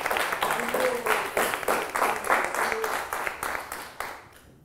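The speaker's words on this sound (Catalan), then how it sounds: "Un fort aplaudiment!" A school audience at the prize ceremony of a Catalan spelling contest breaks into loud, dense applause. Many hands clap steadily for several seconds before it tapers off, with a few voices faintly mixed in.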